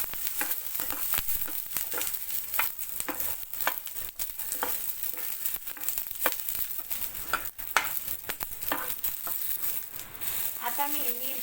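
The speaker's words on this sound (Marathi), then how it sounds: "आता मी याच्यामध्ये हे लसूण सुद्धा भाजून घेणार आहे।" Garlic roasting in hot oil in a pan for a Vidarbha-style cauliflower chutney: a continuous crackling sizzle broken up by scraping, stirring strokes, close and steady throughout.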